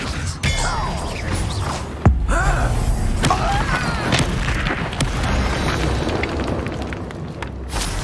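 Spell-casting effect from the Hogwarts Legacy video game: a dense, layered game soundscape of magical whooshes and swirling tonal sweeps with a sharp booming impact near the middle, over constant rumbling battle noise.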